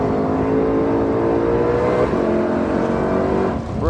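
A GT500 car accelerating hard on the Ozarks International Raceway track, loud sustained engine roar from inside the cabin, pitch climbing steadily, then a gear change and easing off near the end.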